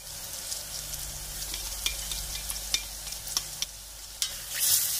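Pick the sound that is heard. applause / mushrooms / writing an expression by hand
mushrooms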